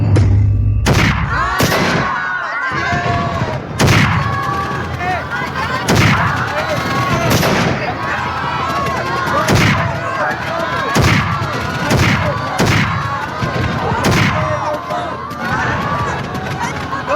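Gunfire sound effects at a school annual day play with soldiers on stage, a series of sharp loud bangs repeating every second or two over crowd noise and shouting voices.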